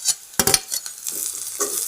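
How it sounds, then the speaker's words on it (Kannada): Tomato is being stirred and fried in a pan, with a few sharp spatula scrapes close up over a soft, steady sizzle in a brief burst. "ಹಾಕ್ಕೊಂಡು ಚೆನ್ನಾಗಿ ಫ್ರೈ ಮಾಡ್ಕೊಳ್ಳಿ."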